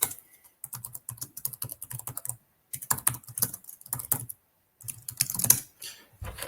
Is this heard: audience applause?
no